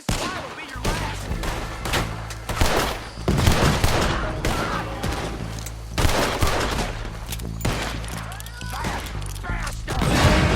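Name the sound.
gunfire in shootout, Red Dead Redemption 2 video game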